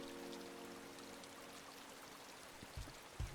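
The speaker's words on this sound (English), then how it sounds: "You hear what sounds like a waterfall right now?" A faint, steady rushing like a waterfall in a video game, soft and continuous, with a few low thumps near the end.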